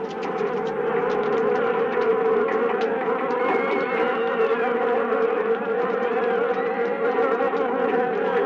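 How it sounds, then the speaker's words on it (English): A swarm of killer bees attacking in a city street, with a dense, continuous insect buzz holding steady and loud throughout, layered with many overlapping wingbeat tones. "a swarm of killer bees attacked in downtown Rio"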